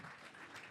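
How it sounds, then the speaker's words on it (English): Audience at a live comedy horror show applauding together, a dense, steady wash of clapping heard briefly at moderate distance. "Give Jared a round of applause for accuracy, everybody."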